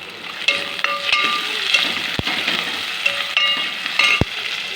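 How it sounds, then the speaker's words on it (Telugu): Curry leaves sizzling in hot oil with fried onions for a masala brinjal curry, a steady loud crackling fry with sharp pops and stirring clicks throughout. "ఆనియన్స్ వేగిపోయినాయి, ఇప్పుడు కరివేపాకు వేసుకోవాలి"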